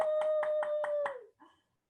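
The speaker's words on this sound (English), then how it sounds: "everybody give them a round of applause" A school college-readiness assembly applauds two presenters: about six sharp, evenly spaced claps sound under a steady sustained tone, then everything drops away into a brief faint tail and silence.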